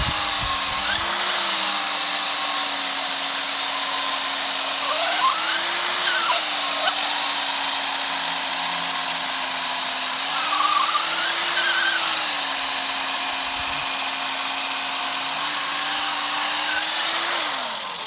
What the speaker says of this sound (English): we've drilled the hole